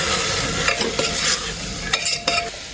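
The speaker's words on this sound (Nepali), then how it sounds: "अब यसलाई चाहिँ मजाले फ्राई गर्ने" Potatoes and beans fry in a pan with salt and turmeric, a close sizzle layered with busy scraping and stirring clatter from a utensil working through the pan.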